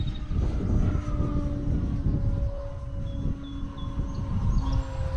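A Decathlon 40 model airplane flies overhead, its engine droning steadily with a tonal whine that rises and falls slightly as it maneuvers, loud and continuous with no talk.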